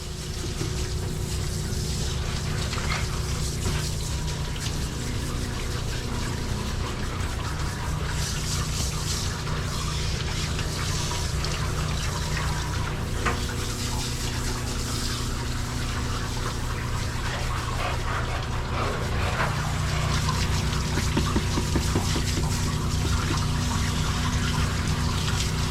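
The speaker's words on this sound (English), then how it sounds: "We gotta rinse all the soap off." Water gushes steadily from a tap or sprayer while rinsing soap off a dog in a bath, a continuous loud rushing wash running unbroken throughout.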